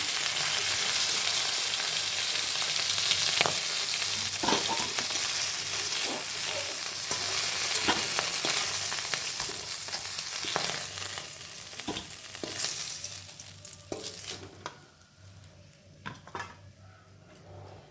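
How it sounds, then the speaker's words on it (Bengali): Whole fish pieces sizzle steadily in hot oil in a kadai, loud and close, broken by repeated metal spatula scrapes and clinks as the fish is turned and lifted out; the frying fades near the end. "মাছের দুই পিঠ ভালোভাবে ভাজা হয়ে গেছে, এবার তুলে নেওয়া হচ্ছে"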